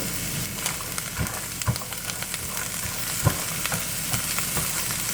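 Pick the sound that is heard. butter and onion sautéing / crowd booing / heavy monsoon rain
butter and onion sautéing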